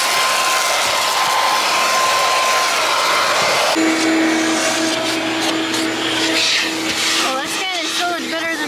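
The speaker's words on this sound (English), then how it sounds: "It's gonna be a wind tunnel in there, that vacuum" A vacuum cleaner runs inside a car during interior cleaning, a loud steady whine that shifts pitch partway through as the nozzle moves, with people talking over it.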